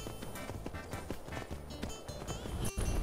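Horse hooves galloping in the video game Skyrim, a steady run of quick thudding footfalls close by over a busy bed of game sound, with no talking.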